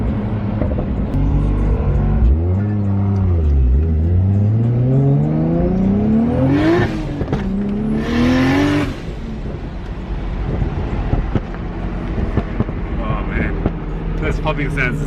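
A 620whp Toyota Supra with a 2JZ engine and screamer pipe revs loudly up and down in long climbing sweeps, then settles to a steady drone with crackling pops, as people talk over it.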